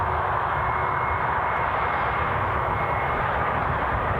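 Scoot Airlines jet airliner at Newcastle Airport, a steady, loud broadband engine roar that holds evenly throughout with no talk over it.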